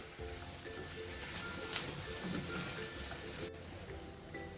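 Potatoes sauté in a pan for potato rice, giving a faint, even sizzle that runs throughout, with small clinks and one sharp tap near the end.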